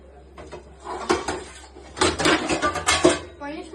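Dishes and pots clatter and scrape close by as they are handled and washed at home, with bursts of metallic clanking in uneven clusters and a voice talking faintly now and then.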